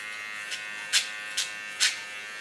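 Electric hair clipper buzzing steadily while trimming a neckline, with a few short scraping strokes on top of the constant hum, close up.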